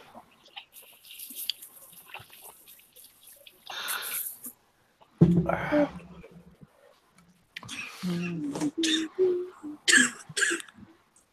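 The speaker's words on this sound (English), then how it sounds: "that's like the saddest little cough I've ever heard" A small, weak cough sounds close by, with quiet rustling and soft noises scattered around it and no talking.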